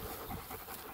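A dog pants nearby with quick, steady breaths, close and moderately loud, on an outdoor outing hauling branches for a bonfire, with no talk over it.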